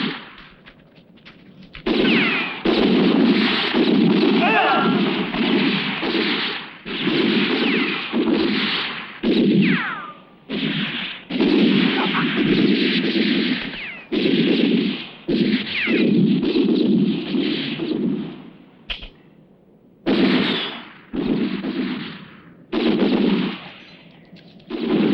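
Gunfire in a western film, long sustained bursts of rapid loud shots that fill the scene, broken by short pauses and a few gaps before the firing resumes.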